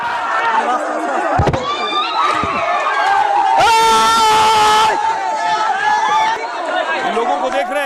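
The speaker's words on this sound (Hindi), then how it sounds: "लाखों की भीड़ जो घर के बाहर खड़ी थी, वो भीड़ इस घर के अंदर घुस गई।" A large crowd storming Sheikh Hasina's residence in Bangladesh: loud, dense chatter and shouting with a sharp bang, rising cheers and clatter, while a reporter speaks over the noise.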